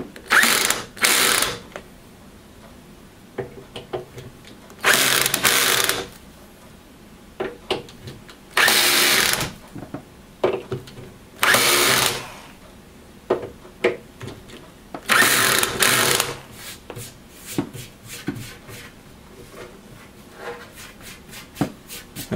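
A power drill drives screws into the white-painted front panel of a MAME arcade cabinet in a series of loud, separate whirring bursts, with quieter handling clatter in the pauses.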